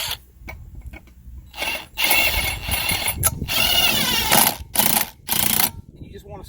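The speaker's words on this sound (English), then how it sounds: "The inner adapter receives this bolt, and you tighten it up from there." A bolt is tightened on the inner adapter of a Gator Tracks unit, giving close ratcheting and mechanical clicking in uneven bursts with short pauses between them.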